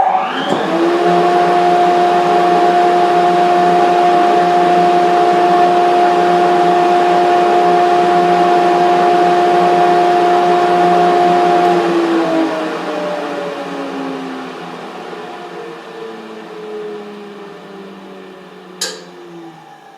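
A workshop dust collector, plugged into a remotely switched iVac Pro outlet, drones loudly with a steady motor hum and whine, then winds down, its pitch sliding lower as it spins to a stop.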